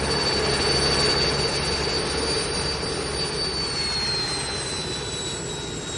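A helicopter lands nearby with a loud, steady turbine roar and a high whine that holds throughout and fades only slightly toward the end.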